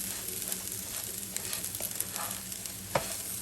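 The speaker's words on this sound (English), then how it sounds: "So you keep stirring it, flipping it until the rice has started to turn a golden brown color" Chinese sticky rice stirred and flipped in a hot pan over high heat: a quiet steady sizzle with intermittent scraping strokes and one sharper knock near the end, no voices.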